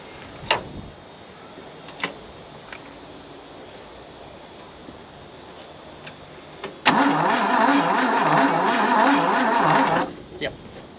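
A Valiant Pacer slant six, parked for 46 years, cranks on a jump start, a steady churning whir running for about three seconds after a few scattered knocks and clicks, loud and close.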